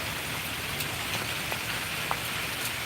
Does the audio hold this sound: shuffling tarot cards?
no